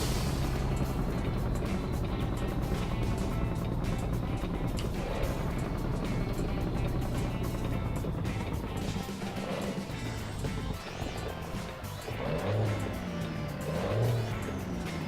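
Loud, continuous engine drone of a Mack MH 600 truck in American Truck Simulator, steady throughout with shifts in pitch as the driver works for a gear, no speech.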